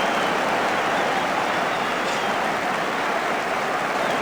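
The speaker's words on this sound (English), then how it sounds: "Crowd roar in expectancy." Rugby stadium crowd at an England v Wales Five Nations match, a steady broad roar of thousands of spectators rising in expectancy, loud and sustained without breaks.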